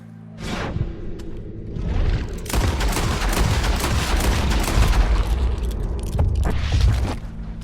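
Gunfire in Red Dead Redemption 2, a Western game, during a fight with a beast: a sharp shot opens the sequence, then comes a sustained loud stretch of booming shots and rumbling action with a few distinct cracks near the end.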